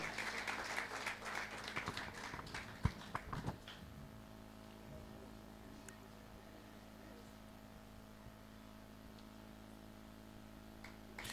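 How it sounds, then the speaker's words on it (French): An audience at a church foundation school ceremony gives a short round of clapping for a woman coming forward; the applause is fairly close and lasts a few seconds before fading to a quiet room hum. "Acclamez pour elle pendant qu'elle vient."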